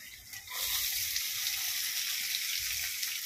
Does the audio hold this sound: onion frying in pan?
yes